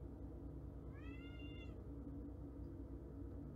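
A pet cat named Pepper lets out a single clear, faint meow indoors, short and rising then falling, over a steady low background hum.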